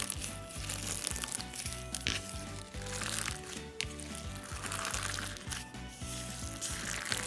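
Crunchy slime mixed with medium star beads, a steady run of soft crackling and crinkling squishes, close up and fairly quiet, with no talking.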